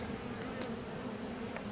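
Clustered bees hum in a Warré hive under inspection, a continuous close buzz with a faint tick or two, steady and without any talk.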